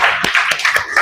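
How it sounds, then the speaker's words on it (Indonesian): Classroom applause sounds as a group of students claps together at a lesson, giving a brief, loud, dense patter of hand claps with a few sharper slaps standing out. "Kasih tepuk tangan buat kita semua."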